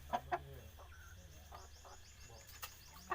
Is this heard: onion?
no